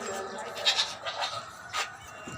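A breeder goat at a livestock market in Karachi bleats in short calls amid crowd noise and nearby talk, the cries mid-distance and moderately loud.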